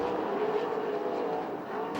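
A USAC/CRA sprint car roaring through a corner at a dirt oval race in Perris, California, heard as a loud, steady engine drone that stays close throughout.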